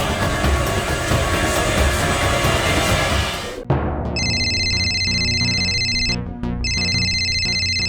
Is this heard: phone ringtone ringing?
yes